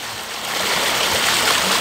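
A car rolls slowly through a flooded street in Chaves, churning deep water up to the curb with a steady, close, broadband rushing and sloshing that builds slightly, with no talk over it.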